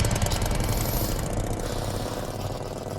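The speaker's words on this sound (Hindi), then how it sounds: "रोहन इस साये को देख कुछ सकपका सा जाता है और बाइक की रफ्तार धीमी कर लेता है।" Motorbike engine running steadily at night on a village road, a continuous rumbling drone with rough knocking texture that eases slightly as the bike slows, alone without talk.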